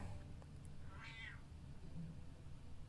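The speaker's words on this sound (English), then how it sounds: "Thief Kitty would like to say hello" A cat meows once, a short rising call heard alone over a low steady background hum.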